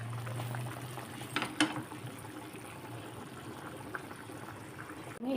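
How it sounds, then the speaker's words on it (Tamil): A pot of Tamil lentil-ball curry (paruppu urundai kulambu) bubbles at a steady simmer, a continuous close gurgling boil with a few louder pops and a faint low hum underneath. "குழம்பு நல்லா கொதிக்குது, நல்லா வாசனையாக இருக்குது."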